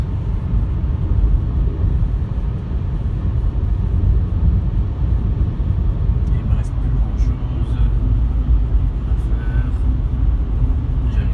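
A VW e-Up electric car accelerates at 90 km/h, a steady loud low rumble of road and wind noise inside the cabin, continuous throughout.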